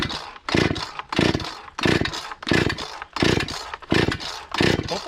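A Husqvarna 455 Rancher chainsaw with a muffler mod revs up and down repeatedly, about eight loud, rasping throttle bursts in a fairly even rhythm with brief idle dips between them, heard up close.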